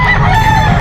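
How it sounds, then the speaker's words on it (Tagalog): Roosters and fighting cocks at a busy Philippine animal market in Malasiqui, Pangasinan, crowing and clucking loudly and close over a dense crowd background. "Panabong na manok, manok na pangulam,"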